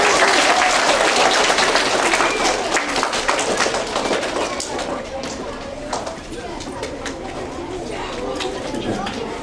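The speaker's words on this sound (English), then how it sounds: "Give yourself a round of applause, guys." Elementary school students at an assembly in Canton, Michigan giving themselves a round of applause, a burst of scattered clapping that thins out as chatter and voices mix in.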